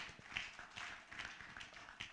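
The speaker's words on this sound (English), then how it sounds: "Please, a round of applause to her." An audience at a cassava investment forum applauds, giving a steady wash of many hands clapping at moderate volume, slightly distant, with no voice over it.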